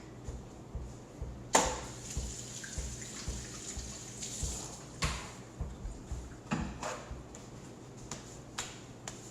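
Hands being washed under a running tap, a steady soft trickle of water broken by a few sharper splashes and clatters, close and fairly quiet, no talking.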